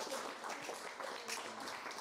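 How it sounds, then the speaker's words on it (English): Applause from a crowd at a London kids' competition event, a steady, even wash of many hands clapping at moderate distance with no voices over it, sustained throughout. "let's get a round of applause for everyone"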